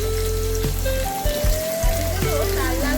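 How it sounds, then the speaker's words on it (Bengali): Potatoes fry in hot oil for a Bengali potol and prawn dish, giving a continuous crackling sizzle that stays steady for the full three seconds alongside faint tonal background sounds. "এবার আমি এর মধ্যে আলুগুলোকে দিয়ে দেবো আলুগুলোকেও লাল লাল করে ভেজে"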